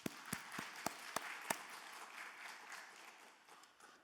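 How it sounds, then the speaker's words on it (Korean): A church congregation applauds its praise team at a special early-morning prayer service. A handful of sharp, close claps over softer group clapping fade out by the end. "우리 찬양팀들 박수 한번 하겠습니다"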